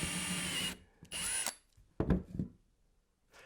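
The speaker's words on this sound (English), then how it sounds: "using tape as a temporary stop for your drill" A power drill whirs in two short bursts into wood, followed by a couple of knocking handling sounds, close and loud.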